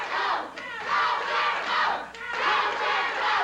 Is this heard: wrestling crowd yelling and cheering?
yes